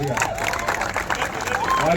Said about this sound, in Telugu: కొద్దిగా గట్టిగా చప్పట్లు కొట్టండి వారికి